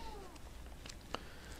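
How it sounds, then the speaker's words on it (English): A house cat meows faintly in the background of a quiet indoor room, one short brief call standing out near the end over low steady room noise. "my cat is meowing if you can hear it in the background"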